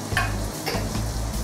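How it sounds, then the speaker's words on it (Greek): A utensil stirring a pot of salted, boiling pasta water, with soft scraping and swishing strokes over a bubbling hiss, close and steady for a moment with no talking. "ανακατεύουμε λίγο"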